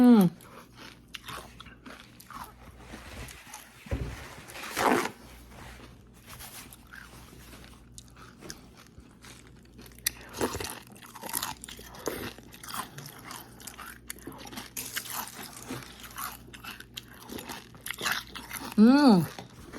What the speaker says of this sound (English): I'm gonna eat the cereal first.